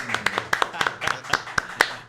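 A few people clap briefly and unevenly, close to the microphone, welcoming podcast guest Edgardo Canal in a small studio; about eight separate claps over two seconds, with no crowd behind them.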